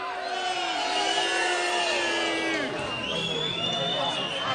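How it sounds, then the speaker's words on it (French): A bullfight crowd at a Camargue course camarguaise whistles, cheers and applauds, with long rising and falling whistles over a dense roar of voices and clapping, loud and continuous, while brass music plays behind. "Voilà, ça siffle, ça applaudit."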